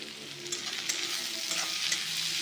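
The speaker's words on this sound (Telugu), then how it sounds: "ఇప్పుడు ఇది బాగా వేగుతున్నది" Two large chopped onions fry in a pan, giving off a steady close-up sizzle with soft crackling and no voices.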